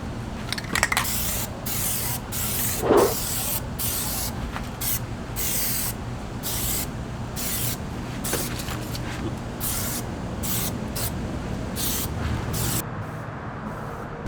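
An aerosol can sprays black paint onto 3rd-gen Toyota Tacoma badges in a series of short bursts separated by brief pauses, close and hissing, with occasional small clicks.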